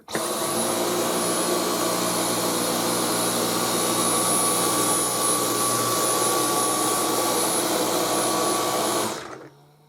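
A Dyson V10 Total Clean cordless vacuum cleaner starts abruptly and runs at a loud, constant high-pitched whine with a steady airflow roar for about nine seconds, then powers down and fades out.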